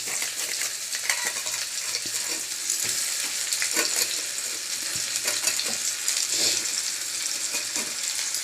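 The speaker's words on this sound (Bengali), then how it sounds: "একটা আলুটাই ভেজে নিলাম।" A single potato fries in hot oil with a dense, bright sizzling hiss, close and continuous, broken by occasional stirring clicks and taps.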